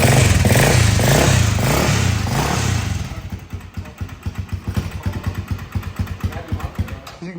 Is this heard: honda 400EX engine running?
yes